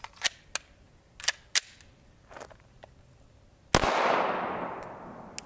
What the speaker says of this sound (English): We'll just fire 10 rounds of each.